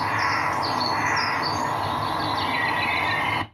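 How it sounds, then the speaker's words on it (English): Birds sing in a busy outdoor chorus, with bright chirps and trills layered over a steady background hiss and hum that continues evenly until the sound cuts off abruptly. "Here comes the bird songs"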